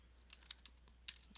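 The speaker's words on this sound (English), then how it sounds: "my typing" A few soft, sporadic keystrokes on a computer keyboard, faint and close, with short gaps between the taps and no talking.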